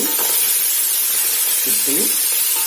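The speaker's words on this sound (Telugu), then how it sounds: "అలాగే మనం తరిగి పెట్టుకున్న టమాటాలు, పచ్చిమిరకాయలు కూడా వేసుకుని మళ్ళీ ఒకసారి తిప్పుకుని" Chopped tomatoes and green chillies sizzle in a hot pan for sambar, a steady bright hiss with brief scraping stir sounds partway through, fairly loud and without talk.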